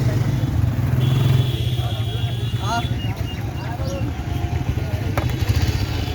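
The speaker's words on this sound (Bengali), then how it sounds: "অনেক বাইক আসতেছে যাইতেছে" Many motorcycles coming and going along a busy road at Dalpar Beel in Cumilla, a dense continuous engine drone with passing swells, under chatter and voices nearby.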